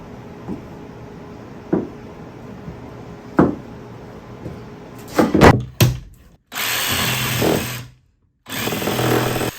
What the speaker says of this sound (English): I'm going in with the jigsaw to cut out these holes.